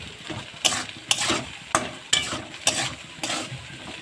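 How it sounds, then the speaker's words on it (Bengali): Potatoes and onions frying with salt in a pan, a constant sizzle broken by about eight rhythmic scraping stirs of a spatula, close and clear with no talking. "দেখো এখানে আলু আর পেঁয়াজটা আমার বেশ ভাজা হয়ে গেছে।"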